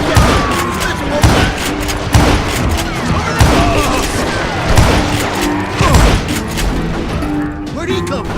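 Gunfire rings out in the Wild West shooter Call of Juarez: Gunslinger, loud repeated shots and booms in a chaotic fusillade over a steady music bed, with voices shouting amid the fighting.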